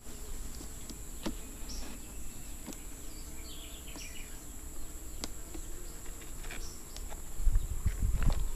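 A swarm of Uruçu boca de renda stingless bees gives a faint, continuous buzz at the hive, with a few scattered taps and a louder rumble of handling near the end.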